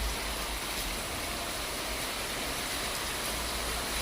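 Heavy rain pours down in Phaltan, a dense, even hiss that stays constant and unbroken throughout with no voices.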